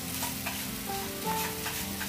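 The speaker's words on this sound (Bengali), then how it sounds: "এই যে মাছগুলো ছেড়ে দিচ্ছি" Fish dropped into hot oil fry with a dense, continuous sizzle, loud and close, holding steady throughout with faint stirring under it.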